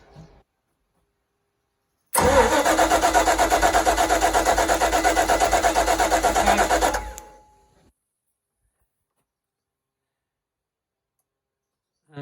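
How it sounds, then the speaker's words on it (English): A Volvo Penta 5.0 GXi marine engine with start and idle problems cranks with a fast, steady rhythmic churn for about five seconds, then stops abruptly, leaving silence after a brief click at the start. "then you're ready to crank the engine over and see what you get."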